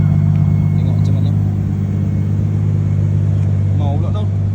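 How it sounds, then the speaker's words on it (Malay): A car engine idles loud and close right after being restarted, a steady low rumble running throughout with someone talking over it. "Saya mati enjin, saya start, saya tengok macam mana."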